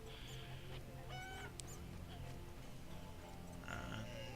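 Short bursts of chicken clucking in The Witcher video game, a few harmonic squawks over a dense background of ambient game sound.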